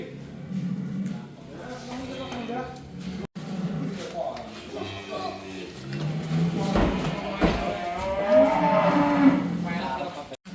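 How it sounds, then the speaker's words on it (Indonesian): Cattle low and moo repeatedly while being loaded for shipment to Tangerang, deep calls coming close and loud with someone talking over them throughout. "Saat ini sedang dilakukan proses muat sapi untuk proses pengiriman ke kota"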